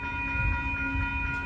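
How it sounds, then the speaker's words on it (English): A Union Pacific intermodal freight train on the Geneva Subdivision at Rochelle, Illinois, comes to a stop, giving a steady low rumble and a sustained mechanical drone with whining tones, fairly faint and continuous. "Yeah, this train just came to a stop."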